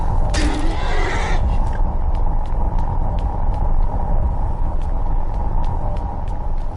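A horse in Skyrim Anniversary Edition on PS5 whinnies loudly near the start over a steady rumbling background, followed by a series of soft rhythmic clicks like hooves.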